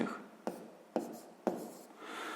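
Pen or chalk scratches out the numbers of a fraction in a math lesson, three soft taps with brief scraping strokes between them, faint and close.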